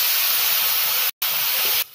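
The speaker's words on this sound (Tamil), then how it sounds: "இப்போ இங்கே வந்து நம்ம புளி தண்ணிடலாம்." Tamarind water poured into a hot pan while cooking a tamarind onion rice mix, giving a loud, steady steamy sizzle with a brief silent break before it quiets slightly near the end.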